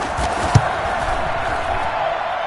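A stadium crowd roaring after a Kansas City touchdown in the third quarter of a football game, a broad sustained wall of cheering heard at a distance with one brief thud early on.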